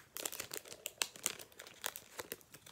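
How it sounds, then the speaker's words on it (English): A crinkly plastic Pokémon card pack wrapper torn open by hand, a quick flurry of close rustling crackles and sharp crinkles lasting a couple of seconds, alone without talk. "open the freaking packet"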